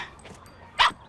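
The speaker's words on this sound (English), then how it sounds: "would you please take the dog away?" A dog gives a single short bark near the end, preceded by faint low yips, with no one talking.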